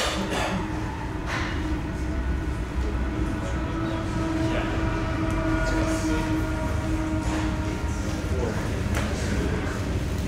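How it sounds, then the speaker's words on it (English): A train rolls past near a town council meeting in Loomis, a loud continuous rumble and rattle of wagons that fills the room steadily throughout. "Jenny, we're going to pause for just a second while this train goes by"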